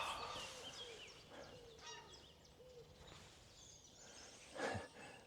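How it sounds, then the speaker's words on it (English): Geese honk in Lincolnshire woodland, a scatter of faint, fairly distant calls over a quiet outdoor background, ending in one louder, closer honk near the end, with no voices. "So we've got some geese to greet us."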